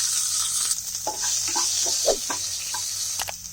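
Sliced onion hits a hot pan of chana dal and curry leaves, giving a steady, close sizzle with scattered stirring clatters and scrapes throughout.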